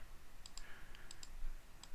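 Several sharp, faint mouse clicks come in quick pairs and singles while selecting braces and purlin beams in CAD software for structural detailing, with no talk.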